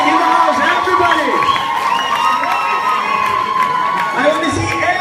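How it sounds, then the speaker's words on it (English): A college crowd at a BITS Pilani campus contest cheers and shouts loudly and steadily, a dense wall of whoops and voices with clapping mixed in, sustained throughout. "Come on, make some noise. Everybody clapping in the house, everybody."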